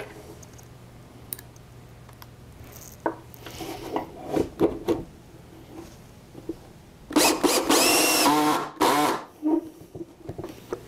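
A drill drives pocket screws into a solid wood front board on a shelf, heard as scattered clicks and handling knocks followed by a loud, close burst of drilling with short stops and restarts.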